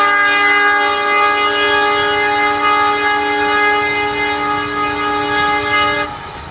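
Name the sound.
train passing on railway line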